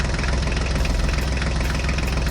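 A toy tractor engine runs steadily at idle, a close, continuous low rumble with a faint rhythmic knock and vibration, playing alone without voices.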